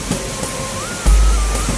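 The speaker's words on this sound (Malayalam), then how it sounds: "സൂപ്പർ വെള്ളച്ചാട്ടം." Water at the Thoomanam waterfall near Akamala in Kerala, rushing as a dense, steady broadband roar, loud and close, with a few faint knocks and a thicker low surge partway through.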